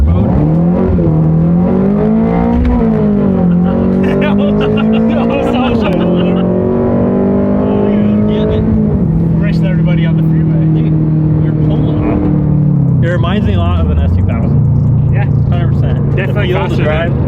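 On a dyno, a 2022 Subaru BRZ engine drones loud and close as it climbs through the revs in stepped surges, drops back, then pulls again, with voices talking over it.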